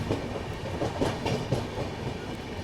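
A Garib Rath Express train rattles past through a curved ghat-section station without stopping, with rhythmic clickety-clack from the wheels, a loud steady rumble close by.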